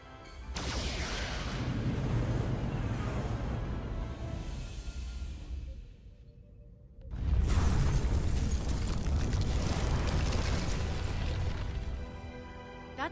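Starship weapons fire and explosions in a Star Trek game, a long rumbling barrage of blasts and mechanical clatter that drops out briefly before a second loud wave of booming impacts.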